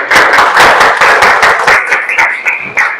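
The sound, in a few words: classroom applause for a student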